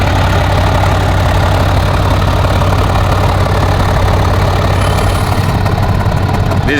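SRT Jeep engine idling with its valved mufflers open, a steady low rumble with a deep droning tone held throughout, loud and close with no revving.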